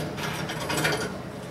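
The bottom spray arm of a commercial dishwasher is unscrewed at its base, making a brief, close plastic rubbing and grinding scrape with a faint ratcheting texture.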